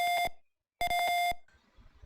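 A piezo buzzer on a PIR-sensor burglar alarm sounds two sharp electronic beeps, a short one then a longer one after a brief gap, loud and close, fading into quiet room noise.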